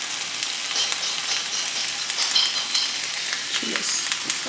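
Onion, garlic and chiles charring in a hot pan, a steady close sizzle and crackle with occasional pops and light scraping, no talking.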